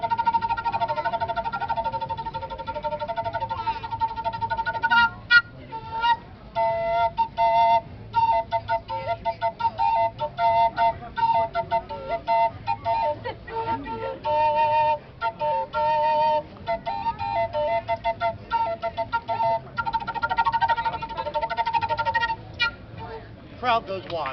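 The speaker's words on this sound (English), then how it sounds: "This is a double flute." A Native American double flute plays a long, breathy, reedy melody of clear sustained tones broken into short bursts and trills, close and fairly loud, with faint background voices at times.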